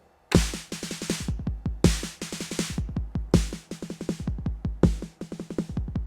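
Roland 909 bass drum and snare pattern loops steadily, with punchy kicks under bright noisy snare bursts that recur in a driving rhythm, loud and with no voices.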